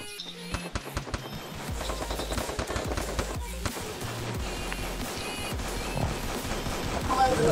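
Rapid bursts of gunfire in the Free Fire squad shooter game, dense sharp cracks and rattling volleys running continuously at moderate level, with no speech heard over the shots.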